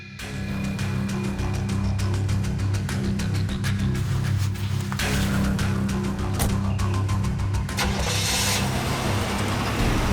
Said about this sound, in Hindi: गाड़ी चलाओ।